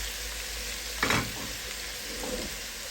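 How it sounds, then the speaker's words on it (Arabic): Chicken fries in ghee with mastic, giving a low steady sizzle that a single brief stirring scrape interrupts, heard close up with no voices. "كده بعد ما شوحت الفرخه بتاعتي كده في السمنه والمستكه"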